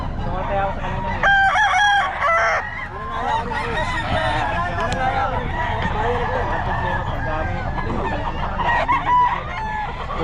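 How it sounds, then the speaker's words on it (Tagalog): Chickens and roosters crowing loudly and clucking close by, with repeated cock-a-doodle-doo calls layered over constant poultry chatter and some human voices in the background. "So, Joey, magkano mga manok mo?"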